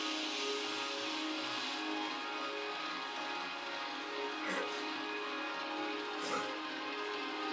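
Muse "You Make Me Feel Like It's Halloween" 7-inch vinyl record playing back quietly with an eerie, hissy, washed-out tone, a steady murky drone broken by a couple of brief crackling pops.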